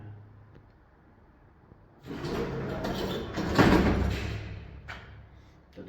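The worn doors of an old KMZ traction elevator in a Vilnius apartment block slide open with a loud, rumbling scrape after a quiet start, then settle with a soft clunk.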